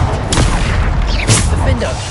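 Explosions from the Bombarda blasting spell go off in a Hogwarts Legacy battle, with two or three loud booming bursts mixed with combat effects while a voice shouts spell names over them.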